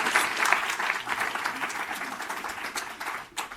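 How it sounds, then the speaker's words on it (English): A conference audience at a clean-energy keynote gives dense, sustained applause that fills the room, with many overlapping claps holding steady and then thinning sharply just before the end. "Give him a warm hand of applause."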